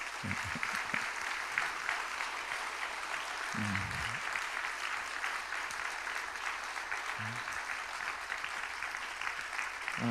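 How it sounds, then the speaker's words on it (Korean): Church congregation at a pastor's retirement service applauds in a steady, moderately distant wash of clapping, with a few brief low voices surfacing under it. "한번 박수를 보내주시면 좋겠습니다"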